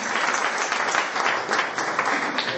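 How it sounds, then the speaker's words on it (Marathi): An audience at a kirtan gathering applauds for the singers, a dense, steady burst of many hands clapping, moderately loud and sustained throughout. "सर्वांनी गायकांसाठी एकदा टाळ्या वाजवा."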